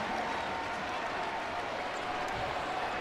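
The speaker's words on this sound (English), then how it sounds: "The crowd's going nuts." Dense, steady roar of a basketball arena crowd during a tense late moment of a Stanford vs Gonzaga women's basketball game, continuous and loud throughout with scattered claps and no distinct voices.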